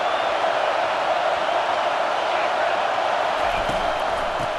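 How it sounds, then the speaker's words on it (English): A stadium crowd in the College Football 25 video game roars steadily on a third-down defensive play, a dense, loud wash of cheering that holds level throughout. "Decibels rising as the crowd gets behind this defense on 3rd down."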